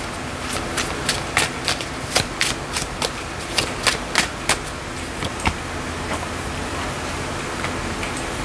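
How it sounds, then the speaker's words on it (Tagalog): Crisp riffling bursts of tarot cards being shuffled, a dozen quick flicks in an uneven rhythm, close up, fading out toward the end. "Latag muna natin yung mga baraha mo"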